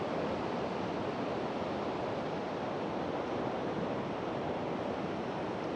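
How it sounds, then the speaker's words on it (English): Ocean waves wash on a beach in a steady, even roar of surf, continuous and soft with no voices. "We're on the beach, on the ocean, breathing in the ocean air."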